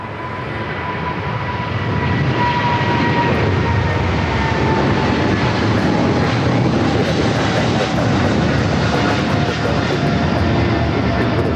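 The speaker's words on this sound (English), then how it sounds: "the 777 freighter now rolling down the 25 left" A Boeing 777 freighter jet rolls down a runway at LAX, its engines building into a loud, steady roar that swells within two seconds and holds strong throughout.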